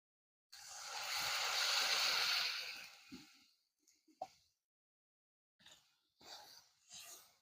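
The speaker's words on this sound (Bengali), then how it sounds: "মশলাটা করা হয়ে গেছে, এবার পরিমাণ মতন আমি জল দিয়ে দিচ্ছি।" Water poured into a spice paste in a pan for Bengali koi fish curry, a rushing splash for about three seconds, then a few brief clinks and stirring noises, quiet and close.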